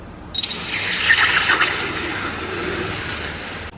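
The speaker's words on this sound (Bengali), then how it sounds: "কড়ার মধ্যে আমি এই রকমই বাটি এক বাটি জল দিয়ে দেব" A bowl of water is poured into a wok on the stove in one steady splashing gush lasting a few seconds, loud and close, ending abruptly.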